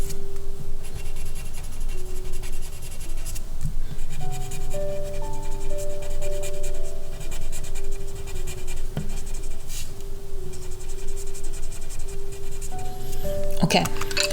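Pastel strokes scrape steadily across paper while the corner is darkened with a series of L-shaped marks, producing a close, continuous soft rasp with faint clinks near the end and low background noise throughout.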